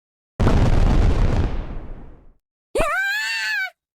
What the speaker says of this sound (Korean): 주방에서 폭발이 일어났습니다!